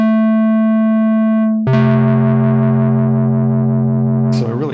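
Two sustained, heavily processed tones form a major sixth, the first ringing alone before a second, richer chord-like tone enters with distortion and chorus effect, loud and steady with a brief noisy burst near the end.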